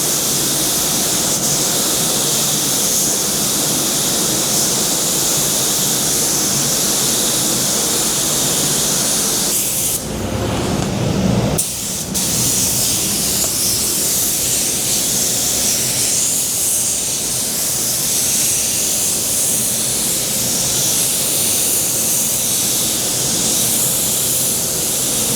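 Spray gun laying down European clear coat on car panels during a Torana respray, a steady loud broadband hiss running continuously with a brief break partway through.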